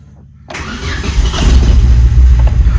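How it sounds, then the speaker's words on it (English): A car engine cranks over and catches after being jump-started from a TopDon JS2000 pack, then settles into a loud, steady idle close by, with no talking. "That started like an absolute trooper."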